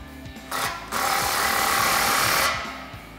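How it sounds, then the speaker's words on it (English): An exhaust clamp on a 2021-2023 Ford F-150 dual exhaust being tightened with a 15 mm socket on a power tool, giving a short burst then a steady two-second whirring rattle, close up, with no talking. "And then we can slide our clamp into position and tighten that down with a 15 millimeter socket."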